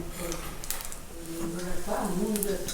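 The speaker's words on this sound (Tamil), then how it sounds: "சிம்மில் வச்சு ஸ்லோவாக 2 பக்கமும் ஃப்ரை பண்ணி எடுத்துக்கலாம்" Bread malpua fries slowly over low heat in a pan, giving a soft, steady sizzle beneath a person speaking.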